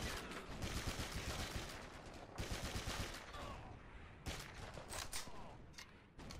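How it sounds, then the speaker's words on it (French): Dense MG-42 machine gun bursts rattle through a Call of Duty 2 Big Red One battle, loud, near and sustained, with other gunfire layered in and a couple of short gaps between long volleys. "il faut avancer en fait abri par abri parce qu'il y a une MJ-42 qui me tire dessus"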